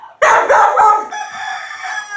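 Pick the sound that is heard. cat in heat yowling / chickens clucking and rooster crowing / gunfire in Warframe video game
chickens clucking and rooster crowing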